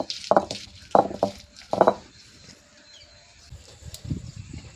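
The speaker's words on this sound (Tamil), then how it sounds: "நண்டை நசுக்கிக்கிறோம் அந்த கால் பகுதி கொடுக்கலாம் இருக்குது பார்த்தீங்களா அதெல்லாம் அப்படியே லைட்டாக நசுக்கிக்கிறோம்" Crab legs lightly crushed for a spicy crab soup in an outdoor village kitchen: three or four short, close crunching knocks in the first two seconds, then softer scraping and handling noises.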